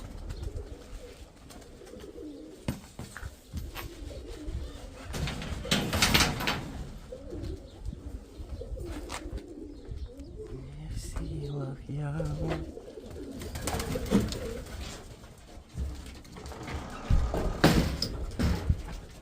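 Pigeons coo and flutter in a loft or yard, their low calls recurring over steady background noise while people talk nearby.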